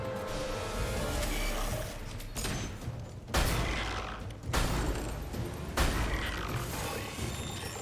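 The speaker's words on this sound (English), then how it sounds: "I'll go swap to the sniper and shoot that guy's tanks" Gunfire in the Mass Effect 2 video game, with sniper shots among it, comes as several sharp loud bursts over a dense noisy battle background.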